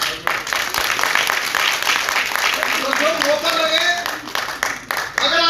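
An audience claps at a Hindi poetry gathering (kavi sammelan), a steady wash of applause lasting the whole stretch with a voice speaking over it.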